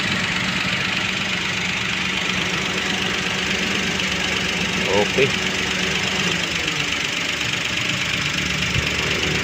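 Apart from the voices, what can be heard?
car engine idling with air conditioner running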